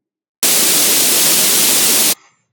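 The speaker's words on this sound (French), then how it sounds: "on va cliquer sur Bruit, et on va choisir notre bruit, le bruit blanc" White noise generated in Audacity plays as a loud, steady broadband hiss for under two seconds, starting and stopping abruptly, with no talk.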